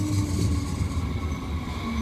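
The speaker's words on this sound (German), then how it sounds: "Kommt schon die nächste S-Bahn und zwar in Doppeltraktion." A modernised S-Bahn commuter train running as a double unit pulls in, a steady low rumble of wheels and rail noise with a faint tonal hum, fairly close and continuous throughout.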